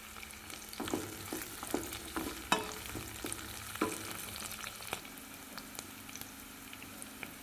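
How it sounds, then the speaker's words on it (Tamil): Curry leaves sauté in a pan with a quiet, steady sizzle, punctuated by a series of soft scraping stirs and small ticks from the spoon, close and alone. "கருவேப்பிலை சேர்த்து நல்லா வதங்கட்டுங்க."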